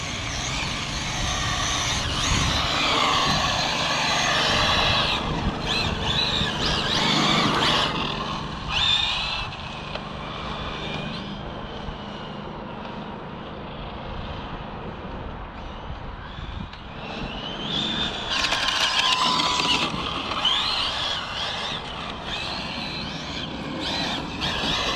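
An Arrma Infraction V2 RC car with a 1250kv motor running on a 6S pack, its electric motor whining loudly and steadily up close, with surges and dips in pitch as it speeds along.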